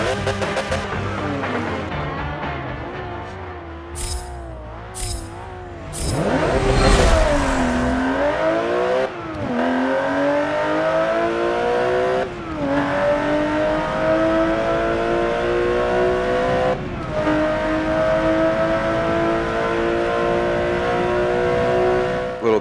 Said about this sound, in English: Here we go, 2016 Porsche Cayman GT4.